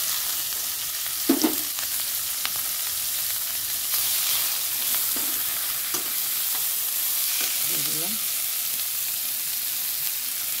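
Chopped onion and green chilli fry in hot oil with nigella seeds for a fish curry, making a continuous close sizzle broken by occasional clinks and scrapes of stirring.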